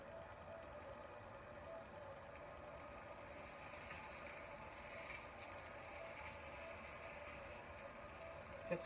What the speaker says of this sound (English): Just grease our griddle top with a little bit of butter.